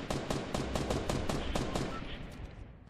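Rapid automatic gunfire in Fortnite, a quick run of about a dozen evenly spaced shots at moderate volume that trail off toward the end, with no clear talk.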